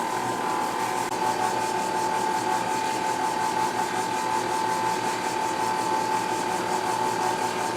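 A stand mixer runs on low speed blending sugar cake mix for bees, a steady whirring hum with rhythmic scraping texture, continuous and close with no talking.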